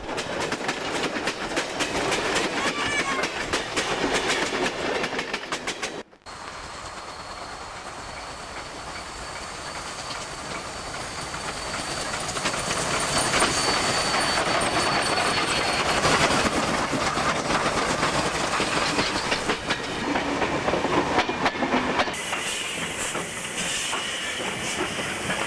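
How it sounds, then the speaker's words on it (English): Two steam locomotives, 3224 and 3214, haul a passenger train approaching Goulburn, New South Wales, rumbling closer with steady hissing and rhythmic clickety-clack, loud and continuous, broken by a brief dropout early on. "3224 and 3214 approach Goulburn with a special passenger train from Sydney."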